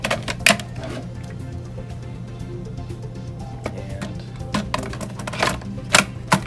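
A motor cable connector clicking into place on a dive module, several sharp close plastic clicks and taps scattered over a low steady hum.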